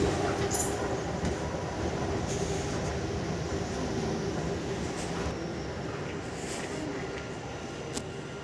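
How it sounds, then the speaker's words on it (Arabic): A Dubai Metro train bound for Expo 2020 rolls in at the station platform with a low rumble and steady hum. Faint wheel squeal and brief high clicks sit over the station air. "The train to Expo 2020 will arrive at platform 2."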